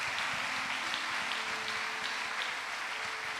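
A church congregation applauds during an evening worship service, a dense, continuous wash of clapping heard at a moderate distance and holding steady throughout.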